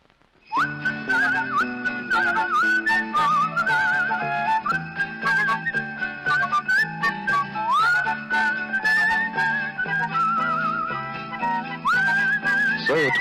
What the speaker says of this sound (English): This is Australia's answer to the whistling camel cigarette man, Mr. Tony Barber.